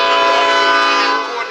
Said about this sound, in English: Record the trains as they come along.